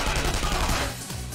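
Rapid gunfire from a battle attack in the video game Persona 5 Royal, a short dense burst of shots that fades at the end.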